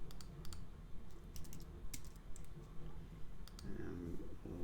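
Rapid computer keyboard clicks and key taps, irregular and close, with some bursts of quick shortcut presses while a person talks quietly in the background.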